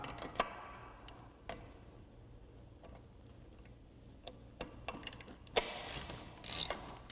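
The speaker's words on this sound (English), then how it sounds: "I'm going to run this bolt all the way in, and it may take a little bit to do so." A ratchet with a deep socket turns a bolt to cage a truck brake chamber, giving faint, irregular clicks. Sharper mechanical clacks and ticks come in scattered bursts, with no talking.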